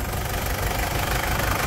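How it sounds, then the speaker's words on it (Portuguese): A Toyota Land Cruiser Prado with one owner and high mileage idles with a steady, even mid-pitched engine hum and light mechanical knocking, running close and fairly loud with no voices. "Que melodia, né, senhoras e senhores? Que melodia o motor"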